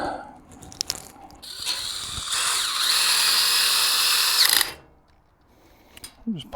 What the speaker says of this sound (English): Now we're gonna have to get the drill.